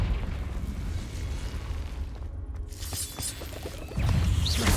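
Confringo fire spell from Hogwarts Legacy bursting with a rumbling explosive roar, a low roll that thins out, then a fresh loud blast near the end.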